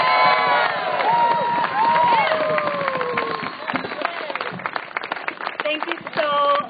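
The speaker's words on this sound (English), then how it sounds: "So give yourselves a big round of applause." A crowd at a Portland Mayday rally claps and cheers loudly throughout, with voices shouting over the steady applause and a swell of cheering near the end.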